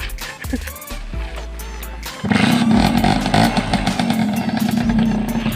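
A modified Honda Tena New 110cc motorcycle makes a few short rough cranking sputters, then catches into a loud, buzzing, two-stroke-style idle that runs steadily and close by to the end.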